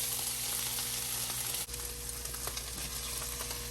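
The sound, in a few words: sautéed onion mixture added into enchilada sauce, sizzling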